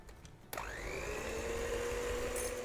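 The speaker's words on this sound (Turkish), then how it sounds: "yumurtalarımız iyice beyazlaşana kadar çırpıyorum" An electric mixer whips eggs with sugar for an apple roll cake batter. After a short quiet start it switches on abruptly, then whirs at a steady, close whine.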